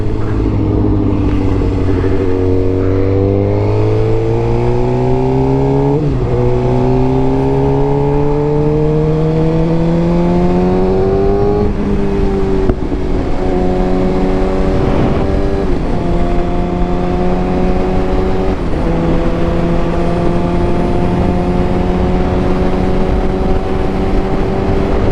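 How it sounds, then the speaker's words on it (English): A Suzuki GSX-R motorcycle's exhaust rises and falls through repeated gear changes, a loud, close engine note climbing in pitch, dropping at each shift, then climbing again for about twenty-five seconds. "I like the sound, man. Like, of the exhaust, the pops, like, that's perfect"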